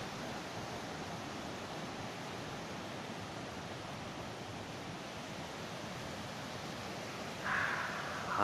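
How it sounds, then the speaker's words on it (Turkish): Meltwater from snow on the mountains around Çamlıca village in Erzincan flowing everywhere, a steady broadband rush of water, even and moderately distant, with no talk. "Her yerden su akıyor"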